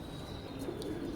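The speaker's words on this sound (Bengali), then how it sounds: "তো একটা কবুতর আজকে কিনলাম, আপনাদেরকে দেখালাম কেমন হয়েছে" A newly bought pigeon coos softly a couple of times over a steady low background hum, with no voices present.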